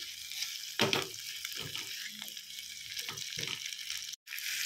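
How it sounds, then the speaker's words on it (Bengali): Onion and capsicum fry in a pan for chilli chicken, a steady moderate sizzle broken by several scraping stirs of a spoon against the pan, with no voices. "এবার এগুলো একটু হালকা হাতে ভালো করে নাড়াচাড়া করে ভাজবো"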